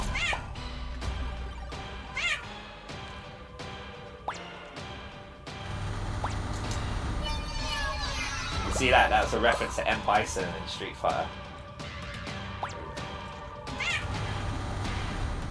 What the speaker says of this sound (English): Yeah, you're hearing a lot of that meow, meow.